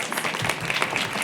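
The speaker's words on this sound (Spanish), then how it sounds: "Por favor, brindémosle un fuerte aplauso." Audience applause at a nutrition and geriatrics congress, a dense steady patter of clapping filling the room for just over a second, fairly loud and unbroken, with no one talking over it.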